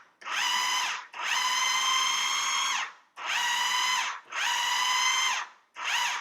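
Food processor pulsing olives into a chunky tapenade, four loud whirring bursts of one to two seconds each separated by brief pauses, close and alone.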